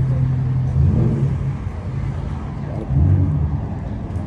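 A supercharged Ford Mustang pulls up at a car meet, its engine a steady low rumble with two louder swells as it rolls in, heard close amid general meet noise.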